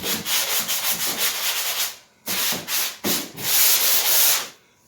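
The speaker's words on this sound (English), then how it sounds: "So when you're sanding out this one here, you gotta go in" Hand sanding of dried drywall joint compound in an inside corner with paper tape, loud close rhythmic rasping strokes in two bursts separated by brief pauses, with no talk.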